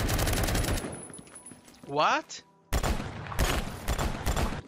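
Rapid bursts of automatic gunfire in the first-person shooter game Phantom Forces, loud and close, broken by a short pause where a player briefly speaks before the shooting resumes.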